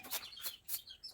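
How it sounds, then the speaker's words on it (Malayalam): Several small birds such as parrots and sparrows chirp in a yard, with three or four short, bright calls coming in quick bursts at moderate distance, fairly faint, with no voices. "ഞാൻ മുറ്റത്തേക്ക് വരുമ്പോൾ കുറേ കിളികൾ, തത്ത, കുരുവി അങ്ങനത്തെ ഐറ്റംസ്"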